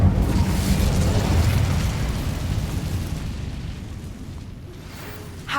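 An Incendio fire spell bursts in the Hogwarts Legacy video game, a loud, close, roaring blast that holds for several seconds and then gradually fades, with no voices over it.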